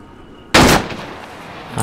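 A single loud, close gunshot from ARMA 3 combat cracks out sharply and rings off into a long fading tail, with a fainter shot or burst near the end.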